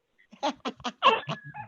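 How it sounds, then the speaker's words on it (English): A dog squeezing a squeaky platypus toy indoors, a rapid run of about six short, loud squeaks close to the microphone, alone without talk. "My dog just brought over his squeaky platypus and is trying to get my attention."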